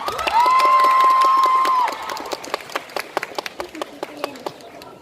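Audience at a cosplay contest breaking into loud clapping and cheering, a sustained whistle or cheer over the crowd, then applause thinning into scattered claps.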